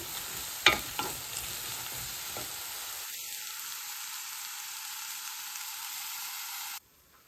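Spices sizzle and hiss steadily in a pan of frying cabbage bhaji with onions, turmeric, coriander and chili powder, with a couple of stirring knocks near the start before the sizzling cuts off abruptly.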